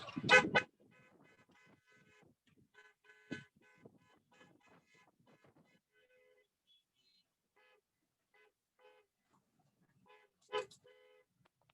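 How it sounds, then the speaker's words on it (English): Car horns honk from a protest caravan of vehicles driving in support of incarcerated people, with a couple of loud blasts at the start and end and fainter, scattered toots in between. "If you are, then you should start honking."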